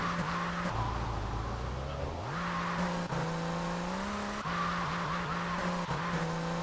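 An Infernus sports car in GTA 3 climbing a parking garage ramp, its engine droning and shifting pitch up and down as it accelerates, with brief tire squeals, steady and close without speech.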